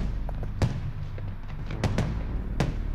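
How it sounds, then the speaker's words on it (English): Distant fireworks on a Fourth of July evening, a handful of sharp thumping pops spaced irregularly over a steady low background. "Sounds like the fireworks are starting."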